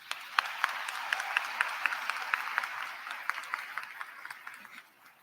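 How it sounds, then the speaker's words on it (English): Applause from a graduation crowd of graduates and parents, a steady wash of many hands clapping at moderate distance with individual sharper claps standing out, fading away toward the end. "Please give yourselves a round of applause."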